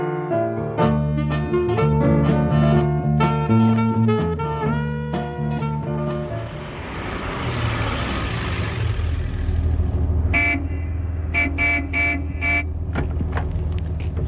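A car horn toots in repeated honks as a car arrives and its engine hums close by, staged as a sound effect in a 1973 German radio crime drama.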